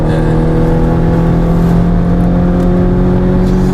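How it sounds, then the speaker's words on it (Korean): A Volvo V60 Cross Country engine revs hard and steadily at about 6,000 RPM, a loud continuous droning whine heard from inside the vehicle. "엔진 사운드 좀 거슬린다. 그러니까 시끄럽네."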